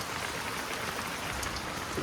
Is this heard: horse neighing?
no